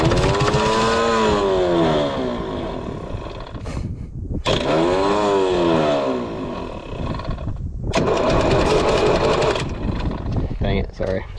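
An Allis Chalmers 5040 tractor engine cranks hard, repeatedly trying to start in loud, rising and falling bursts with brief pauses between attempts, while people talk over it.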